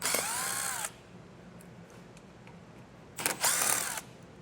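A power tool drives out T15 fasteners up under a 2024 GMC Canyon, two short close whirring bursts separated by a quiet pause.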